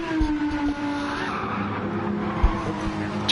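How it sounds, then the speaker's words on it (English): Car tires squealing steadily in a sim racing game, a sustained high whine over a constant engine drone, with a couple of brief thumps and no talking. "Too much tire squeal."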